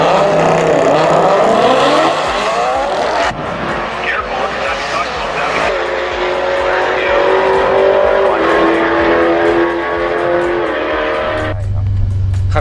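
A 2008 Mercedes-AMG C63 V8 roars loudly under hard acceleration, climbing through gear changes with a rising then resettling pitch. Tyre noise runs beneath it, and the engine drops away abruptly at the end.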